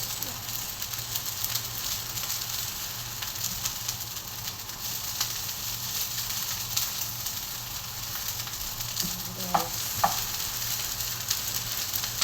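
Garlic fried rice (sinangag) made from day-old, clumped Egyptian rice frying in a pan, giving a steady close sizzle throughout with a few light clinks near the end.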